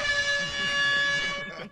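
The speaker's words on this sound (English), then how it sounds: "Air horn." A loud, blaring air horn sound effect holds a steady tone for under two seconds before cutting off abruptly.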